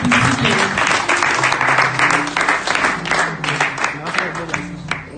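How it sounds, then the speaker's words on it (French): A church congregation claps loudly in praise, a sustained dense burst of hand clapping blended with cheering voices, steady and close throughout. "on acclame très fort notre Seigneur"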